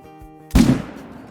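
A single loud rifle shot at a moose in the hunting game Call of the Wild, a sharp blast that rings out briefly after a moment of quiet background hum.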